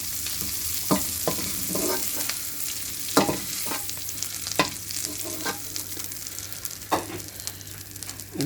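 Prawns fry in hot oil, a continuous close sizzle punctuated by occasional sharp spits and pops, with no voices present.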